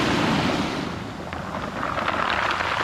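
Strong sea waves rush and crash against the shore close by, a loud, broad, continuous roar that eases slightly in the middle and then surges again, with wind buffeting the microphone.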